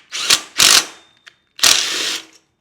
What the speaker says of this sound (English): we just have to remove a couple bolts off this bracket right here